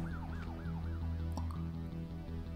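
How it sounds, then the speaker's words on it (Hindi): Police siren in the video game Sift Heads Reborn, a wailing up-and-down tone cycling several times over looping game music, moderately loud with no talk. "पुलिस का सायरन, ओ पुलिस से लड़ेंगे हम लोग"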